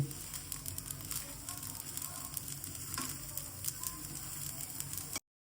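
Masala dosa sizzles steadily on a hot pan with oil, a continuous close crackling hiss with small pops, faint and even throughout before cutting off abruptly.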